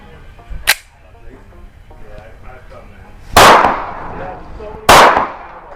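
Three sharp gunshots from a MAC 9 at a shooting range: one near the start, then two louder reports a second and a half apart, each with a short ringing decay, and faint background noise between them.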